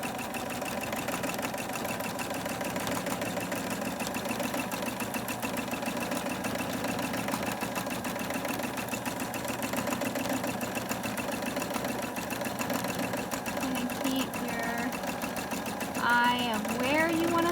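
A sewing machine hums and clatters steadily while free motion stippling on a quilt, its fast needle rhythm running continuously up close, with a brief squeak near the end.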